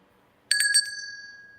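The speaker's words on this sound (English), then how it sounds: "I'm going to ring the bell." A 5.5-inch brass bell shaped like a unicorn is struck once with a quick clatter of strikes, then rings out in a clear, sustained tone that fades slowly. It is close and fairly loud in a quiet room.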